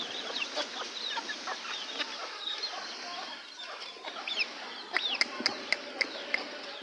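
Young native chicken chicks peep and cluck in a busy, overlapping chatter, with a few sharper high chirps standing out near the end against steady background noise.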